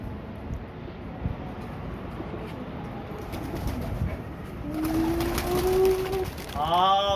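Pigeons coo in an outdoor setting, their soft low calls rising over a steady background hum, with faint bird sounds and fluttering growing louder toward the end.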